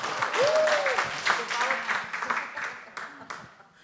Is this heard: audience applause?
yes